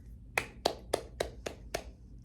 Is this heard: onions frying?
no